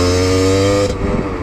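A motorcycle engine idles loud and close with a steady throbbing hum, then rises briefly into a rougher rev near the end of the short burst, on an early-morning winter ride.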